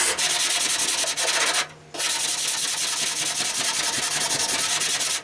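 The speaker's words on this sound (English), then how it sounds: "when you sand the body filler, you also want to sand in a crisscross fashion." Rhythmic back-and-forth scraping of 120-grit paper on a sanding block across body filler on a Toyota AE86 body panel, steady and close, with one brief pause partway through.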